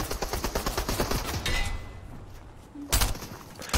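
SMG gunfire in the video game Fortnite, a rapid stream of shots for about a second and a half, then a tail of fading echo, followed by a couple of loud bursts near the end.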